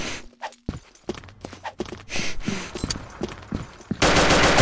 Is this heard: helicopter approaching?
no